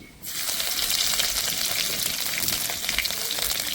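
Crushed garlic dropped into hot oil with cumin, cardamom and dried chili, a sudden burst of loud, steady hissing sizzle that continues close and alone.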